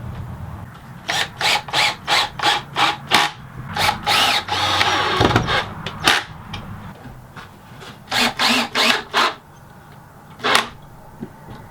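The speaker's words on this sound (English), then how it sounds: "I'm going to add a clamp just to hold everything in place while I screw it down." A power drill drives screws into a wooden end table, its motor whirring in a run of short, loud bursts, then a longer grinding stretch, then a few more bursts, close up with no talking.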